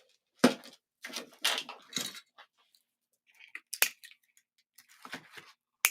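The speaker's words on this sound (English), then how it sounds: "So I'm going to cut these out." Scissors snip out pieces for a snowman wreath: close, crisp cutting strokes in short irregular clusters separated by pauses, with light handling clicks between them.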